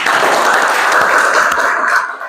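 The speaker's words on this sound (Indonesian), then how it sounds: "kita berikan tepuk tangan untuk pertanyaannya" Classroom applause for a student's question during a lesson, a short steady burst of many hands clapping together, fairly close, fading slightly at the end with no talk over it.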